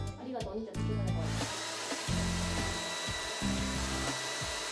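A hair dryer blows a steady, close whooshing hum while drying a young boy's hair at home. A voice speaks briefly over the drone as it keeps running.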